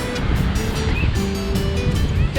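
Rough surf rolls in at Myrtle Beach, South Carolina, churning beneath a fishing pier, a steady wash of breaking waves mixed with wind buffeting the microphone.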